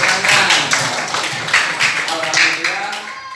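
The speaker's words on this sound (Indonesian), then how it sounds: "Iya, tepuk tangan." Schoolchildren clap together in a classroom, a few quick bursts of hand claps in uneven rhythm, close and fairly loud, with voices mixed in.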